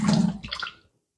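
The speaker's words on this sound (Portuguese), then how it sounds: "Primeiro, eu só vou passar uma água fria nela para tirar o gelo." Cold tap water runs and splashes over frozen peas being rinsed to remove the ice, a close, noisy gush that tapers off into quiet.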